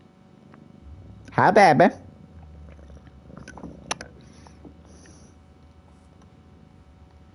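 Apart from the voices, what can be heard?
cat purring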